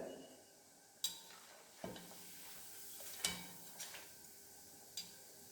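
Sparse crackles and sharp pops from ribbon pakoda frying in hot oil while moisture cooks out, a few distinct bursts over a quiet, low sizzling background.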